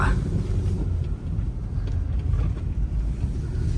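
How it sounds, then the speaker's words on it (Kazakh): Wind buffets the microphone outdoors in open country during a driven hare hunt, a steady low rumbling roar that runs the whole time with no one talking. "Погода борап тұр, шамалап жел бар."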